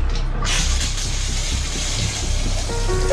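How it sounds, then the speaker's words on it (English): Water running in a shower, a loud continuous broadband rush that starts with a brief burst and holds steady throughout, close by and alone. "the sound of the water running"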